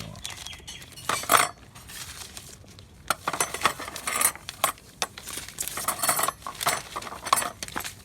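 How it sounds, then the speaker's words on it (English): Kawasaki Ninja 400 clutch plates are dropped one after another into a container of oil, giving bright metallic clinks and clatters in irregular bursts, close and fairly loud, with quieter handling noise between. "Chuck them all in, soak them in oil."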